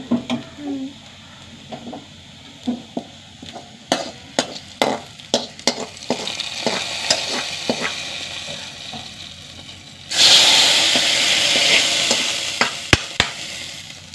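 Onions fry in a pan with sharp scraping stirs at irregular intervals, then a louder, bright sizzle swells up near the end and holds steady.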